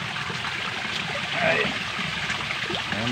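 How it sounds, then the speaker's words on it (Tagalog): A small stream flowing weakly near a vegetable garden, a steady soft trickle and babble of water running continuously at close range with no other prominent sounds. "Mahina na yung aking sapa."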